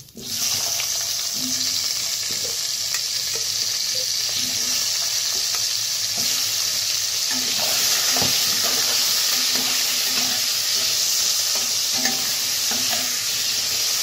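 Potatoes frying in oil tempered with whole cumin and bay leaves for a cauliflower-potato koi fish curry, a loud continuous sizzle with repeated scraping and stirring strokes of a spatula, close by, no talking.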